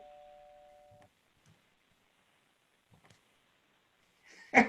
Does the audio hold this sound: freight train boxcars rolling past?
no